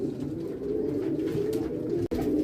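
Homing pigeons cooing in a coop, a close, steady low murmur of overlapping coos with no talk.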